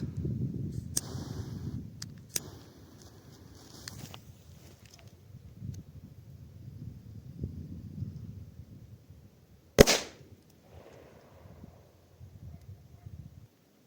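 A sharp firecracker bang cracks out once near the end, alongside a few smaller pops earlier, over a steady low rumble of background noise.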